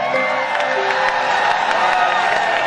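Crowd noise from the audience at a live Hindi kavi sammelan poetry recital, a steady wash of applause and cheering that fills the whole stretch, loud and unbroken, with a voice faintly audible underneath.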